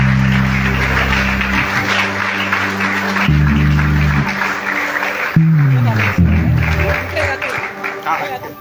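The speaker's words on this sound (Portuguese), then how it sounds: "Aplauda o Senhor, aleluia." Church congregation applauding together in a worship service, a steady broadband clapping wash heard throughout under sustained music and singing, with no clear pauses.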